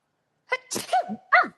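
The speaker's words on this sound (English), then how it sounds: "Whenever I sniff roses, I like start to sneeze." A single sneeze with a sharp intake and burst, followed by a second quick sneeze-like burst, close and loud against silence.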